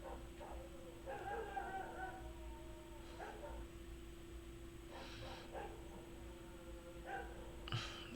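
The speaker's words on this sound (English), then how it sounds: "Fucking dogs howling outside." Dogs outdoors make a few scattered howls and yips, faint and distant, set against a steady electrical hum and low background noise.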